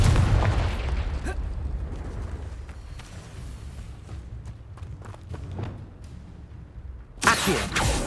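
A Confringo blast spell explodes in the video game Hogwarts Legacy: rumbling low-end game ambience with scattered pops, then a loud, sharp burst near the end.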